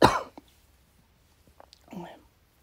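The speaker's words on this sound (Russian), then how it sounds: "Хочется кашлять" A person with a sore, itchy throat and high fever gives one short, sharp cough at the start, followed by faint throat noises and a soft breathy sound, close and quiet.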